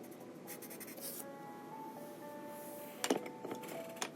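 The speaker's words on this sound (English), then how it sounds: "Hit it with my blender pencil a little bit." A blender pencil rubs against paper in short, soft scratching strokes while colouring a jewel-centred flower, close and quiet, over faint steady background music.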